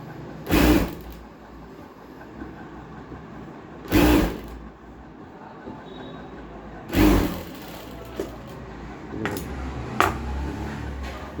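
A sewing machine stitches a panjabi collar in three or four short, sharp bursts separated by quieter pauses with faint handling noise, heard close by.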